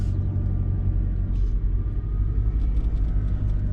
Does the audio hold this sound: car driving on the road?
yes